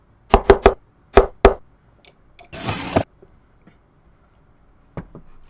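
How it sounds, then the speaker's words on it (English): Secret knock on a door in a Carmen Sandiego video game: a crisp rhythmic pattern of three quick raps, a pause, then two more, close and loud, followed by a short mechanical whoosh and two faint taps. "I'll go ahead and give the secret knock"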